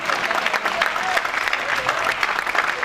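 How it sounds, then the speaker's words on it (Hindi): Audience applauding for children after their first performance at a folk-form play, a dense, steady burst of clapping with a faint voice over it, close and continuous. "एक बार जोरदार तालियां इन बच्चों के लिए"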